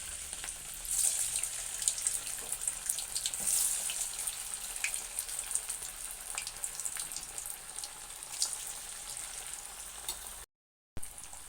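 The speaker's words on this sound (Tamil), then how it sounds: "இப்போ நம்ம எண்ணெயில் போட்டு பொரிச்சிக்கலாம் வாங்க" Poha vadai, a flattened-rice fritter, fries in hot oil with a continuous bright crackle and sizzle, close and fairly loud, dipping briefly near the end.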